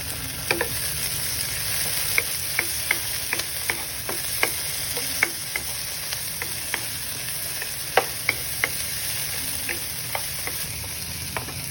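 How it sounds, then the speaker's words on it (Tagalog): Garlic, white onions and potatoes sauté in a pan for chicken misua, a continuous close sizzle punctuated by sharp spatula taps and scrapes, without any talking. "Saute the garlic and then the onions."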